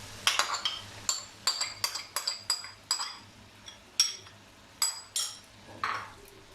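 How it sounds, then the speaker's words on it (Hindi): A spoon clinks and taps repeatedly against a metal pot or bowl as yogurt goes into fried masala for a beef biryani. The knocks come in short, bright, irregular bursts, close and clear, with no talk over them. "अब इसमें दही डालते हैं"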